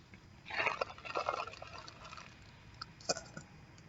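Liquid pours into a bowl while sugar and other bubble-mixture ingredients are being added, giving a couple of short splashy pours followed by a few drips, close and fairly clear with no voices.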